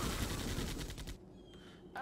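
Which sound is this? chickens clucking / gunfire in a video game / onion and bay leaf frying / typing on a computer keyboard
gunfire in a video game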